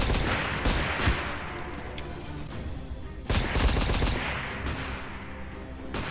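Rapid machine gun fire from the mobile shooter game Frontline Commando comes in two loud bursts of dense rattling shots, with a steady background hum between them.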